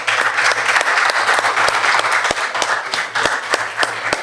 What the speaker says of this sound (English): this ought to be a standing O moment where we applaud our canteen concessionaires